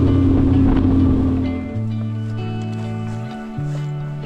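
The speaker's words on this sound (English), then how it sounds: "motor finally started, and now we're gonna head off across the lake to the next portage" An outboard motor drives a fishing boat across an Ontario lake, a loud steady drone whose pitch drops and shifts as the throttle eases, with wind buffeting the microphone.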